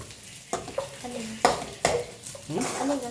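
Sardines fry in a pan, a continuous sizzle broken by several sharp clinks and scrapes of a utensil stirring against the pan.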